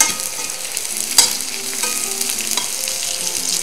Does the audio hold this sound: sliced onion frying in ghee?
yes